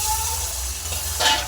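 Masala for chicken curry sizzles loudly in a pan as a splash of spiced water from the marinade bowl hits it, a steady hiss with a brief louder surge near the end.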